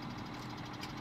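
In Farming Simulator 17, a tractor's compressor rattles in a steady, dense mechanical chatter over a low engine hum, continuous and fairly quiet.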